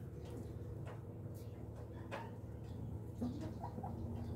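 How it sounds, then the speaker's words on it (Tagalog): Laying hens and a rooster in a breeder cage make soft clucks and low coos against a steady background hum, faint and close. "Saka yung mga hens natin na nangingitlog"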